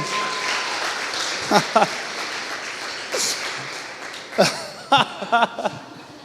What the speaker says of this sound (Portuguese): você pode aplaudir o nome de Jesus, amém?